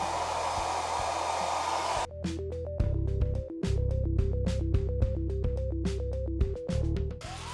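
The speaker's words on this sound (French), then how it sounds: "je vous laisse profiter du son du laser une fois qu'il est activé, en tout cas une fois que les ventilateurs fonctionnent" A Sculpfun SP-A9 40W laser engraver running with its cooling fans: a steady fan whoosh, then a rhythmic series of pulsed tones and motor buzzes as the engraving head moves back and forth.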